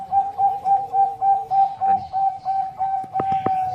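Zebra doves (perkutut) at a breeding farm coo steadily in a rhythmic series of repeated, clear calls, with a few sharper knocks near the end.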